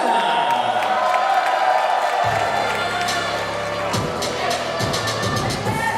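Crowd applause and cheering rise to greet a teenage rapper taking the stage for a solo rap performance, a steady wash of clapping and whoops with a music beat kicking in partway through.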